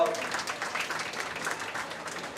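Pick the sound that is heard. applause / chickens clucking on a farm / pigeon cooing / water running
applause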